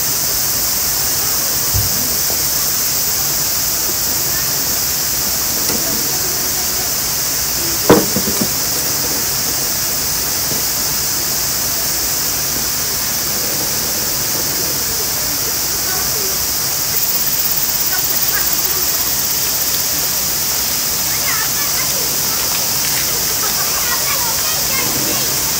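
Water running steadily and loudly as feet are washed during a car camping trip in a heat wave, a constant rushing hiss with a few brief knocks, while a voice speaks over it.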